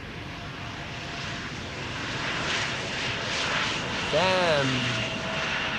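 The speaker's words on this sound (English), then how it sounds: "let's transition over to the 777 freighter that is now approaching the center runway" Boeing 777 freighter on approach to the center runway at Amsterdam Schiphol, a steady roaring jet engine drone that grows slightly louder, with a man's brief spoken exclamation over it.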